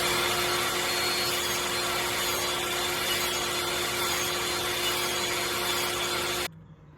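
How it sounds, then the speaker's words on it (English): A saw cuts thin slices from maple wood, making a loud, steady whirring roar that holds constant for several seconds and then stops abruptly. "So I cut 15 segments or slices of the maple."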